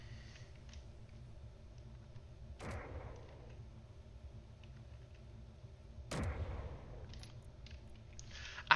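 Battleship guns fire in the Space Engineers video game, two heavy booming shots a few seconds apart over a quiet low hum.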